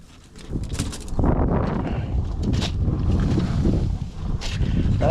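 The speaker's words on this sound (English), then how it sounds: "that wind's cold here where I'm at." Cold winter wind gusts steadily and loudly across the microphone outdoors by a grill, a continuous rough rumble rising and falling in strength.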